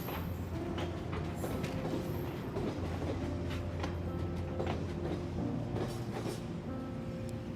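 Train running on rails, a steady rumble with rhythmic clickety-clack of wheels over track joints, continuous and fairly close throughout with no voices.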